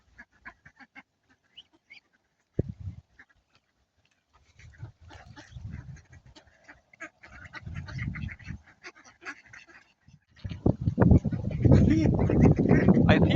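A crowd of ducks gathered around bird feed quack and honk, starting as scattered calls and building into a loud, dense, overlapping chorus nearby.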